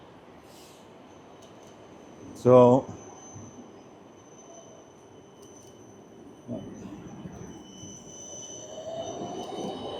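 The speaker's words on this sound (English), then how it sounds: "I'm waiting for that tram to pass" A tram passes along a Budapest street, its wheels giving a brief loud metallic squeal near the middle, followed by softer rolling rumble amid steady city noise, with a short spoken word at the start.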